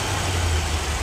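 A 1966 Chevrolet Corvette with original air cleaner and ram's horn exhaust manifolds idles with a low, steady rumble, close up and fairly quiet, with no talk over it.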